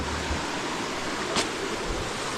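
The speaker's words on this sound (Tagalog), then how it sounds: "Yan ang lakas ng tubig." Strong rushing water pours in a dense, steady roar that fills the whole clip at close range, loud and unbroken.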